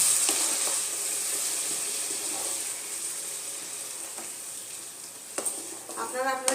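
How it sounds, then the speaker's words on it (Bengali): Warm water added to a raw jackfruit and prawn curry in a hot pan, a steady loud sizzle that fades slightly, then a few sharp spoon clinks and bubbling near the end; no talking. "আমি এখানে একটুখানি উষ্ণ গরম জল দিচ্ছি"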